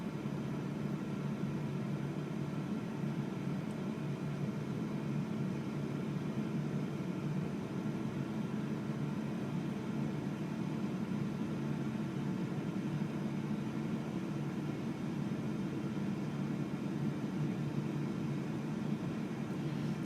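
An air fryer running on its reheat function, giving a steady, unbroken fan hum and low mechanical whir that holds at an even level throughout, with no voices.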